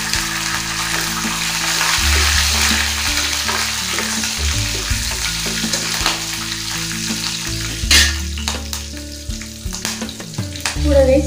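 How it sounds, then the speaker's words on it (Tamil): Chana dal and urad dal fry with green chillies in hot oil, giving a loud, continuous sizzle with stirring clatter throughout. "உளுந்தம்பருப்பும் கடலைப்பருப்பும் பார்த்திங்கன்னா அளவுக்கு வறுபட்டுருச்சு."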